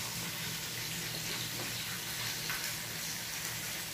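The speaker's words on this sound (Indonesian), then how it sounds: "pertama saya mau sangrai dulu bawang merah, bawang putih dan jahenya ya" Shallots, garlic and ginger dry-roasting in a pan, a steady close hiss and crackle with no pauses, broken now and then by faint scrapes of stirring.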